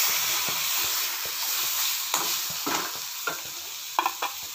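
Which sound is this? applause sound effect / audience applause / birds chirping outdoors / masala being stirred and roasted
masala being stirred and roasted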